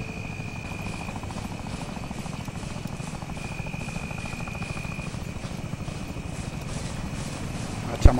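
Helicopter in the military game Arma 3 during a night battle, its rotor chop droning steadily overhead the whole time, loud and continuous, with a sharp click right at the end.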